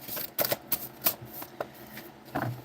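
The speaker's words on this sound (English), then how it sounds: "They're really mixing up for you" Slippery playing cards being shuffled by hand, a series of quick, soft riffling bursts and taps, fairly faint and close, with no talking.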